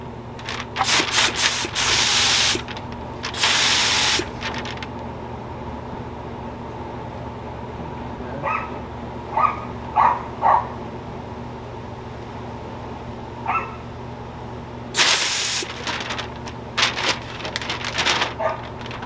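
A spray gun lays paint on a 1972 Buick LeSabre convertible, with several loud hissing bursts of a few seconds each separated by quieter gaps holding small clicks and knocks from handling.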